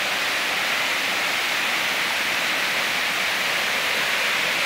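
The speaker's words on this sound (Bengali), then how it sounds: "এই দেখেন এটা পানি নেমে যাচ্ছে, এটা সেকেন্ড স্টেপে যাচ্ছে" Thongkiang waterfall in Bandarban, a wild stream dropping down its rock steps, roars as a steady, loud, broadband rush of water that runs unbroken and close, with no voices.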